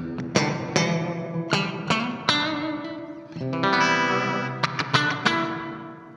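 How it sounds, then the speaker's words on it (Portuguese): Electric guitar played through a Vox AV30 combo amplifier with its spring reverb engaged, close and loud, with distorted strummed chords and picked notes trailing into a splashy reverb tail, no talking. "Temos aqui um reverb, um spring, pra ser mais específico."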